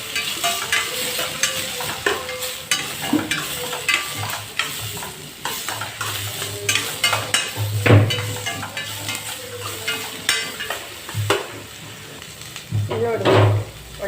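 Tomatoes frying with grated coconut and onion, a close sizzle broken by repeated scraping and stirring strokes against the pan, with a voice talking over it now and then.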